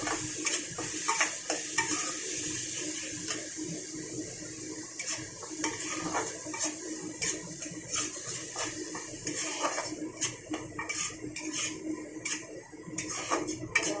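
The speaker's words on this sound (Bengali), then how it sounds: "দিয়ে এটাকে খুব সুন্দর করে নাড়াচাড়া করে নেব।" Ginger garlic paste stirred and fried in a pan, with a steady run of spatula scrapes and clinks against the metal over a soft sizzle, close and continuous, no talking.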